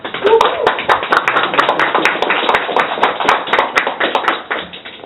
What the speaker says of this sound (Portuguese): Pastora Camila, vou pedir uma salva de palmas.